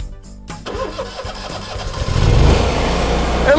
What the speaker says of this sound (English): let's get this engine rolling here